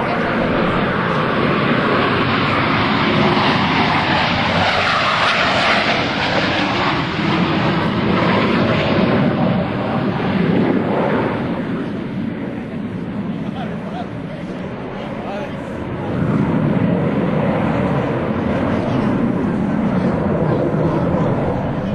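Blue Angels jets roaring past at an airshow in carrier landing configuration during the Fortis maneuver, a sustained loud engine rush that dips briefly and surges back, with a commentator talking over it.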